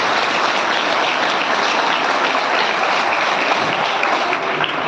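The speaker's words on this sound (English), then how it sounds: "So please clap for both." Sustained applause from an audience at the close of a student debate, steady loud clapping filling the whole stretch with no pause.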